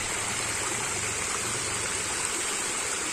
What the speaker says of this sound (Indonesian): Wah, airnya kemericik sekali.